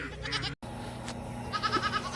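Young goat kids bleat in a farmyard at evening chores, a couple of short, faint, wavering cries close by amid low background rumble.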